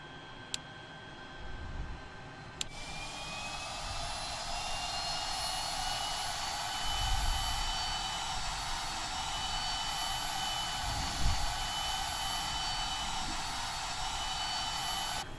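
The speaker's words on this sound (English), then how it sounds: "So you can hear the engine starting up." Turboprop engine of a Shorts 330 spooling up in Microsoft Flight Simulator 2020, a steady rising whine with high tones and a broad roaring hiss building gradually, with a few brief clicks near the start.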